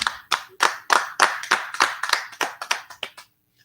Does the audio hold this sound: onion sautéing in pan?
no